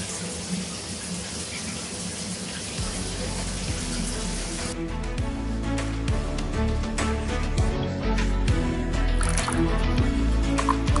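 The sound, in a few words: shower running water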